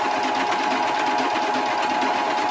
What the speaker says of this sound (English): we're going to sew with the same approximately 3/8 inch